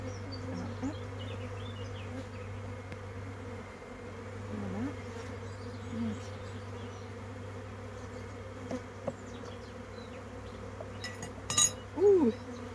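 Bees buzz steadily in a dense, continuous hum around an open hive being enlarged, with a few faint clinks of tools near the end.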